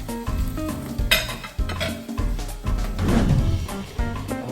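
Fresh onion frying and being stirred in a pan, a steady close sizzle with scraping stir strokes and light clinks of utensil against metal throughout.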